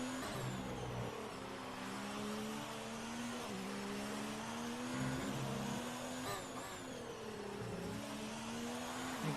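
F1 race cars in a racing video game at the Spanish Grand Prix, their high-pitched engines loud and continuous, with pitch rising and falling through gear changes as several cars pass close by.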